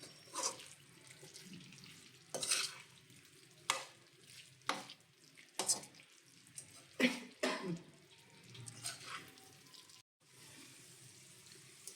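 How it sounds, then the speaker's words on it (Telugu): Chicken pickle being stirred and fried in oil with salt, chili powder and masala: intermittent scraping strokes against the pan over a faint sizzle, close and quiet, with brief pauses between stirs. "బాగా చికెన్లో కలిసిపోయేంత వరకు కలుపుకోవాలి."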